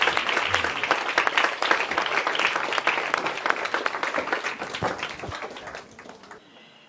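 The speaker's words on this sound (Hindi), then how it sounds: "आइए जरा जोरदार तालियों के साथ आज के जितने भी हमने गेटअवेज और टेकअवेज लिए हैं उनके लिए जोरदार तालियों के साथ धन्यवाद करते हैं।" A large audience applauds warmly at a college event at Hansraj Mahila Mahavidyalaya, the dense clapping sustained and loud throughout before tapering off at the end.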